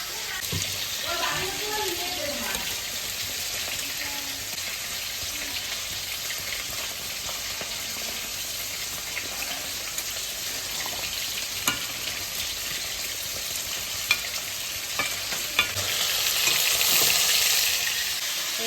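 Hilsa fish and eggplant cook in a pan with a steady, broad sizzle of frying. Stirring clatters now and then, the frying swells louder toward the end, and speech is heard at moments.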